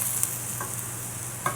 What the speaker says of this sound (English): So I'm going to stir my onions just a little bit here, because as we know, the top part of your pan is always the hottest part